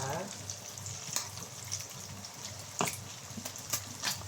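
Black pepper sautés in a pan for fried rice with a continuous crackling sizzle. Sharp clinks and scrapes from stirring land at irregular intervals, close and moderately loud.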